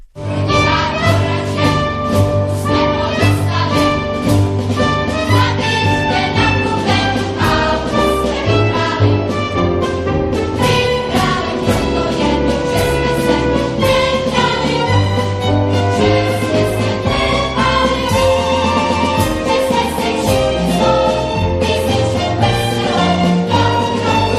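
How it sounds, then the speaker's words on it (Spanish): An excerpt from a Czech-language children's opera with voices and instrumental accompaniment plays continuously, full and loud throughout, with no speaking. "este compositor hace 55 funciones de una ópera en checo que suena así"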